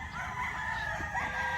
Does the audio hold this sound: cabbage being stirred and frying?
no